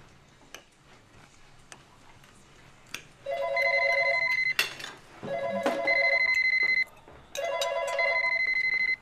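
A telephone rings in a domestic setting: three long electronic ring bursts, each about a second or more, separated by short pauses, with faint ticks and light background noise between them.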